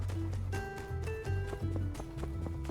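Horse hooves clip-clopping in My Time at Sandrock, a steady repeated gait over game music with sustained tones, close and moderately loud.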